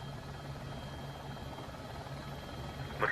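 An AS350 helicopter in a flight simulator cruising over Los Angeles, a steady rotor and turbine drone with a low rhythmic thump, constant and close, ending with a brief higher-pitched blip.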